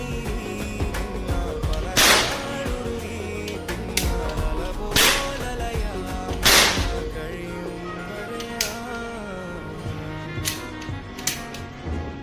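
A toy circus gun fires during Diwali play, with three sharp cracking snaps spaced a few seconds apart and then smaller clicks and taps, loud and near, over faint background voices.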